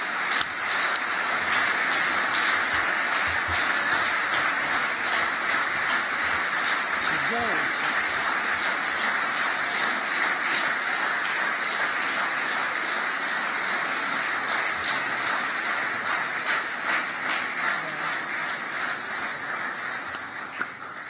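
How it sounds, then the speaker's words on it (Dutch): A large audience at a political party congress applauds in a long, even, steady ovation, loud and sustained throughout with no pauses. "En ik vraag u een hartelijk applaus voor hen die dat toch vele jaren met veel passie hebben gedaan."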